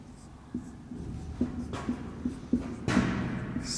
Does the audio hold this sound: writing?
yes